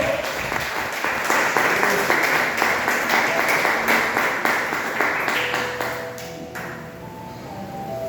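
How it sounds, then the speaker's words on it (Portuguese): Many hands clap together in a church congregation, loud and steady at first, then thinning and fading toward the end as a few sustained ringing tones sound over the dying applause. "Quem pode aplaudir o nome do Senhor?"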